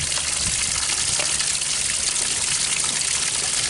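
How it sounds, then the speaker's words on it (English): Water gushing steadily from a 50 hp Mercury outboard motor, a continuous close splashing stream with no talk. "I've got the water running through the motor"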